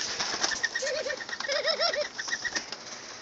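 Pet doves cooing inside their coop, several soft rolling coos rising through the middle and later part, with chirpy calls and light wing or rustling sounds close by.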